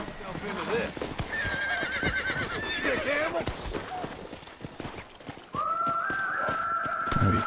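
A horse in Red Dead Redemption: Undead Nightmare whinnies loudly and its hooves clip-clop steadily, with someone talking over the game sounds and a second long neigh near the end.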